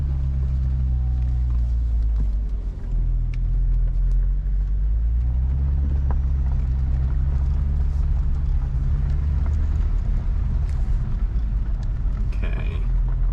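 A BMW with an N54 engine drives uphill, and a deep, steady engine drone and road rumble fill the cabin. A low tone holds and shifts slightly as the car climbs, loud and close, with no clear talk.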